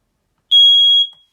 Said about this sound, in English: Let's just test the smoke alarm now.